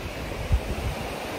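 Sea waves wash against the Black Sea coast in a continuous broadband roar with a low surge, heard outdoors with some wind buffeting and no talking.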